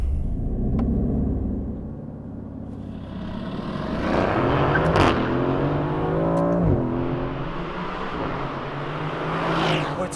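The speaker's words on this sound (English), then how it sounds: "I'm going to launch the car and see what it can do from 0 to 60 and the standing quarter." A 2018 Aston Martin Vantage launches from a standstill, its engine rumbling, then revving hard through rising gear pulls with sharp shifts, loud and close inside the cabin, with no talk.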